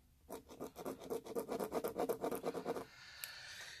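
Rapid rhythmic scratching of a pencil shading on paper, about a dozen quick back-and-forth strokes close to the microphone, then stopping, with no talking.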